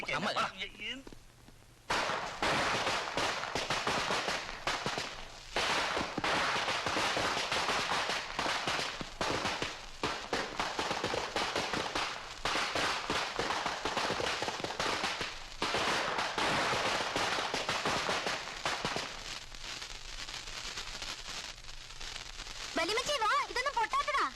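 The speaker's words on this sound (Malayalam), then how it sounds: "ദിവസവും പടക്കം പൊട്ടിച്ച് കാശ് കളയണ വെറുതെ" Firecrackers bursting for Christmas, a long dense volley of sharp cracks and bangs in rapid succession, loud and nearly continuous, with short gaps and faint voices at the edges.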